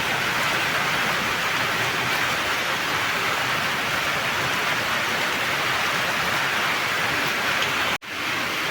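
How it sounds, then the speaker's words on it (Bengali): Rain falls steadily outside as a dense, even hiss of drops that barely changes in level, broken only by one brief cut near the end. "হঠাৎ করে শুরু হয়ে গেল বৃষ্টি যে বৃষ্টি পড়ছে বাইরে"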